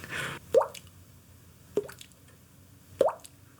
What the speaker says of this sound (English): Very annoying sound, those dripping faucets.